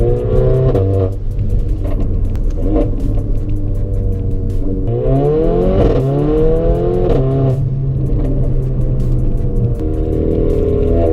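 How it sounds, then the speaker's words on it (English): A Mercedes-AMG GLA 45 engine revs hard and loud in Sport Plus manual mode, its pitch climbing and then dropping sharply at each quick upshift, with a steady close-up drone throughout. "when you have it in Sport Plus mode and manual like I'm driving right now, the upshifting is super fast"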